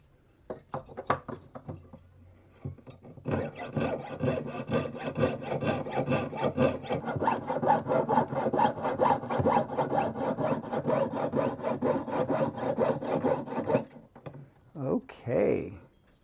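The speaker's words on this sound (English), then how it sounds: "I could slide the saw blade through it in order to pierce out the area" Jeweler's saw blade cutting through a hammered copper bracelet to pierce out a slot, a rapid, steady rasping stroke rhythm running for about ten seconds after a few light taps and handling noises.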